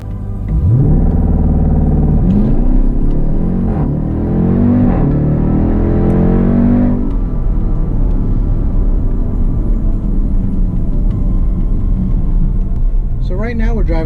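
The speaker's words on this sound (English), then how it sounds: "So right now we're driving the 2018 Jeep Grand Cherokee Trackhawk." A 2018 Jeep Grand Cherokee Trackhawk revs and accelerates on the road, its engine rising through loud sweeping pulls before settling into a steady cruising rumble, with a voice talking over it.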